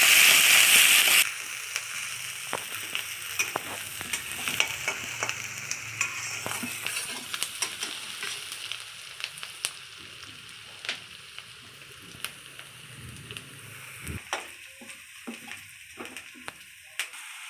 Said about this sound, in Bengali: এই যে পেঁয়াজটা দিয়ে ভেজে নিচ্ছে